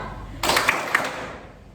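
A group claps hands together in a sudden burst that starts sharply, holds with a few louder claps, then fades out over about a second.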